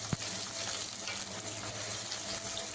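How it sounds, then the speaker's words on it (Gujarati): Roughly chopped onions and green chillies sautéing in a pan for a Gujarati snack, making a soft, steady sizzle with a brief clatter at the start and low background hum, no talking. "ડુંગળી અને મરચાંને આપણે ત્યાં સુધી શેકવાના છે"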